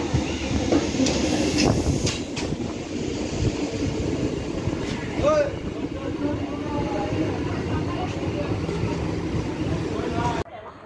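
The 03100 Ahmadpur-Katwa MEMU train rumbles into a station with a steady low roar and rattling, a conductor's note-like whine rising midway, while people talk nearby throughout.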